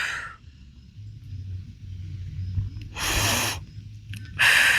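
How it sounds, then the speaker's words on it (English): Deep breathing during a yoga energy exercise: a low steady drone runs throughout while two strong, breathy exhales push out near the end, close and fairly loud, with no talking. "Breathe in"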